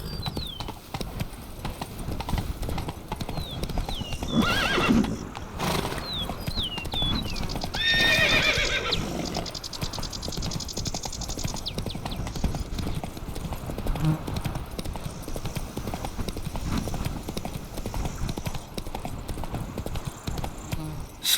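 A horse in The Witcher 3 gallops with steady, rapid hoofbeats throughout, and a couple of neighs and whinnies come through over an ambient game soundscape.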